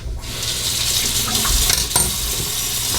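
A straight razor is rinsed under a running tap, giving a steady close splash of water hitting the blade and a sink, with a couple of faint clinks.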